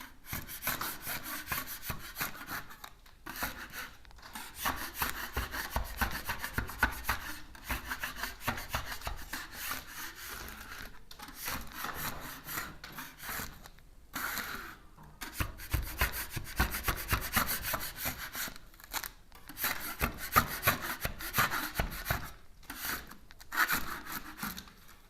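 An 8-inch taping knife scrapes old wallpaper off a wall in long, gritty strokes separated by brief pauses, close and continuous for about 25 seconds, with no voices.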